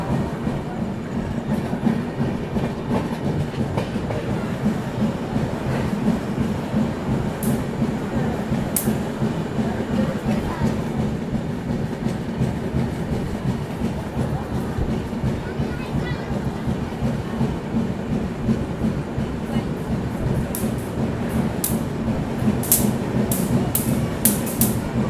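Steady rumble and rhythmic clatter of the Prayagraj–Mumbai LTT AC Duronto Express running at speed, heard from inside a 3AC coach, continuous and close, with a few sharp ticks toward the end.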